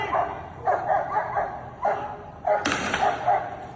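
A dog barks in short repeated bursts, several separate woofs spread across a few seconds, moderately close against a low background hum.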